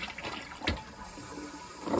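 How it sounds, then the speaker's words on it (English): A household toilet flushes with a surge of rushing water swelling and draining, followed by refill hiss, heard close with no talking. "I can flush my toilet and it'll be all clean."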